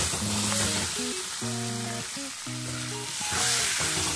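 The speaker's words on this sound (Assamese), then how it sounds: "এইখিনি এনেকৈ 2-3 মিনিট ভালদৰে ইয়াতো ভাজি ল'ব।" Pork pieces fry in a pan with a loud, continuous close sizzle and occasional stirring, while a faint melodic tune plays underneath.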